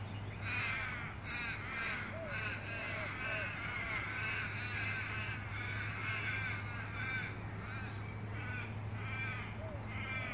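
Crows caw repeatedly and raucously over a steady low hum and constant outdoor background noise, several birds calling back and forth throughout.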